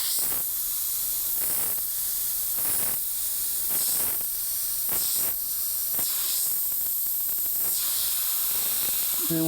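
Airbrush hissing gray paint onto a t-shirt in steady, close bursts, shading a volleyball design with repeated short passes that swell and ease across the whole stretch, with no talking.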